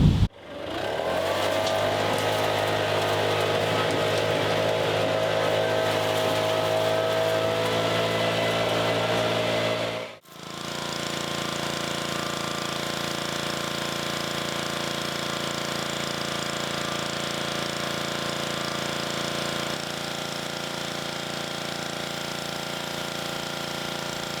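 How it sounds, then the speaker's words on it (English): A loud engine-driven leaf blower roars steadily while clearing an infested 1959 VW Beetle, cuts out briefly, then starts up again and keeps running at a constant drone. "I'm going to give it the leaf blower treatment."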